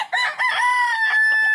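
A rooster crows loudly and close by, one long sustained call inside a coop built for chickens in the rainy season, with a brief clucking note at the start.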